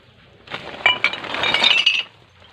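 Broken glass bottles lying in soft soil clink and scrape together in a loud, close cluster of sharp rattles lasting about a second and a half, with no talk.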